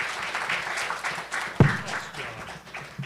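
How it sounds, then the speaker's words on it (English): Audience applause after a presentation on whales and climate change, a steady wash of clapping from a seated crowd with one sharp close thump partway through. "Another round of applause for Natalie."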